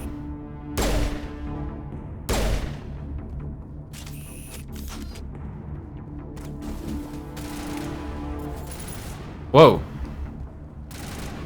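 Gunfire from a character named Kai in the Mass Effect video game comes as a few sharp, well-spaced shots and one later loud crack, between stretches of a player talking.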